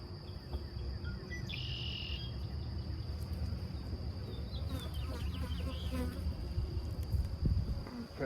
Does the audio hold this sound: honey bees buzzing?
yes